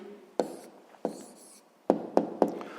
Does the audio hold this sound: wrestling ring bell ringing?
no